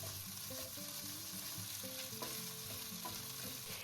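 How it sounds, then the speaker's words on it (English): Ground meat stir-fries in an oiled pan for shrimp with lobster sauce, a loud steady sizzle running throughout, broken by scraping stirs. "we will stir fry the ground meat"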